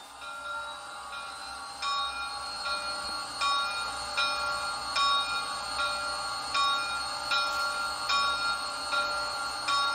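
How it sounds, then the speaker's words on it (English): The bell of a Bachmann HO 2-10-0 Decapod model steam locomotive with WOWSound rings in a steady, evenly spaced series of clear metallic strikes, about ten over several seconds, moderately loud over a faint background hum. "All right, bell."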